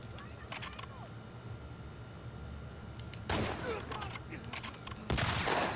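Shotgun blasts ring out during a fight in The Last of Us Part II, a few sharp, loud bursts scattered over a few seconds, with two heavier booms near the end, set against quieter game ambience.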